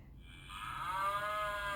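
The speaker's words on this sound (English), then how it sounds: "Okay, what sound does a cow make?" A recorded cow moo plays from a button in a children's farm animal sound book, one long, drawn-out call that swells and holds, with no talk over it.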